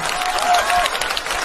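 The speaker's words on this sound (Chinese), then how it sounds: "听懂的鼓掌" A stage comedy sketch audience bursts into applause, a short loud wash of many hands clapping close together, with voices faintly audible under it.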